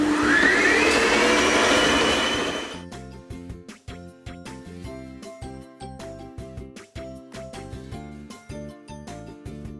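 An electric mixer beats cake batter for a homemade birthday cake, a loud steady whir for about three seconds before it cuts off, followed by rhythmic clinking and tapping of kitchen work.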